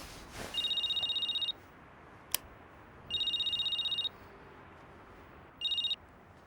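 A telephone rings in three bursts of electronic trilling separated by pauses, with a single sharp click between the first two rings.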